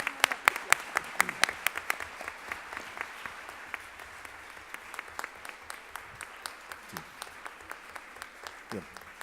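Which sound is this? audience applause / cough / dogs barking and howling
audience applause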